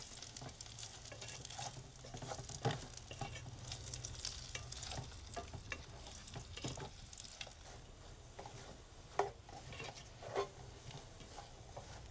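Spam browns in a mess kit pan over a fuel stove, a steady close sizzle and crackle with scattered scrapes and a few sharper clicks, no voices.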